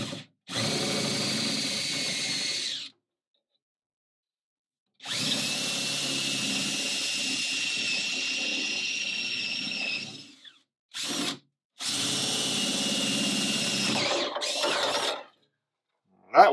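Power drill boring holes through a sailboat hull to fit a box keel on an International 2.4mR, running in three long loud whirring bursts and one short blip, with near silence between them.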